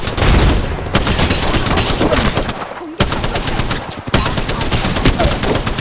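Dense rapid automatic gunfire from the video game Apex Legends, loud bursts of shots broken by a couple of brief pauses.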